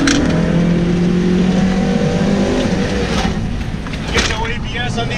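A stock Mazda Miata driven hard on a track, its engine droning and revving under acceleration with some tire noise, heard from inside the car as someone talks over it.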